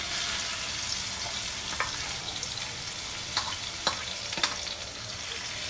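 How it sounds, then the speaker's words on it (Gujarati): Chopped onions sizzle and fry in hot oil with cumin, mustard seeds and asafoetida, a steady close hiss with a few sharp pops and stirring clicks, no talking. "કાંદાને સાંતળવાના."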